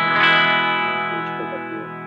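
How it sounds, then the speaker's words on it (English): Electric guitar, a Fender Vintera Jazzmaster, played through delay and Holy Grail reverb pedals: a sustained chord swells and trails off into washy echoes and reverb tails, close and clean with no talking. "let me just show you what the delay and the Holy Grail kind of sound like"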